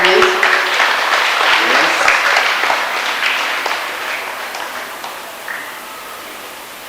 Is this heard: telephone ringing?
no